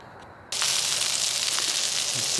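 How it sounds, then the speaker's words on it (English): Food frying in a pan at a cold-weather camp, pasta and meatballs on the way, breaks into a loud, steady sizzle that crackles and hisses continuously after a brief quiet start. "Sizzling away nicely now."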